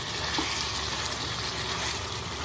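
Hot water poured into sizzling chicken and potato curry masala in an Odia home kitchen, a loud, dense, continuous sizzle and bubbling hiss, close up, without talk.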